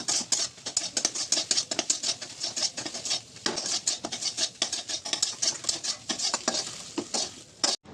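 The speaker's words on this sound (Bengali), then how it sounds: "এখানে আমি 2টো ডিমের আমি ভুজিয়া বানিয়ে নেবো" Two eggs are scrambled in an oiled kadai, producing a close, busy patter of quick spatula scrapes and taps over a light sizzle that continues with only brief pauses.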